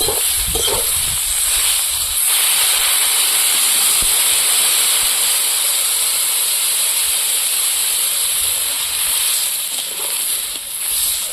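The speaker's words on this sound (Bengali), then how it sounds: "লঙ্কার গুঁড়ো দিয়ে কিছু সময় কষিয়ে নিয়েছি, এবার জল দিয়ে দেবো।" Water poured into a hot pan of curry that has been frying with chilli powder, for a prawn and taro dish, gives a loud, steady hiss and sizzle that fills the whole stretch.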